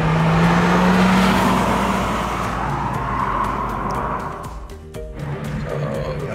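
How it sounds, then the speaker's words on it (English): A 2022 Volkswagen T-Roc Cabriolet R-Line with a 1.5 TSI 150PS engine and 7-speed DSG accelerating hard in sport mode from inside, its engine note droning loudly and climbing in pitch, then easing off as the gearbox shifts, with road noise throughout. "if you knock it into sport mode, and give it a bit of kick down, it sounds awesome and it goes."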